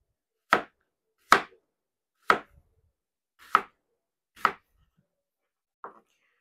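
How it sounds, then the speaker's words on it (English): Onion being chopped with a knife on a board, six separate sharp chops spaced about a second apart, the last one softer, close and clear against near silence. "So we are just cutting up some onion"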